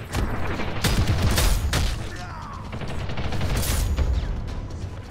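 A grenade blast in the shooter game Ghost in the Shell First Assault booms amid dense gunfire and mechanical clatter, the rumbling explosion and rapid shots layered loudly throughout.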